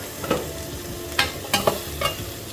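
Potatoes for a chicken curry fry in a pan, giving a low background sizzle broken by several sharp spatula scrapes and knocks, about five strokes at an uneven pace, close by with no voices.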